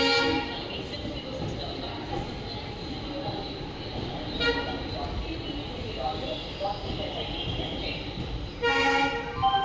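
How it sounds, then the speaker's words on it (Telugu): A train engine starting at Tirupati station on the Vasco da Gama Express, a continuous rumbling drone with brief horn-like tones, and people talk over it. "ఇప్పుడు ఇంజిన్ స్టార్ట్ చేశారు."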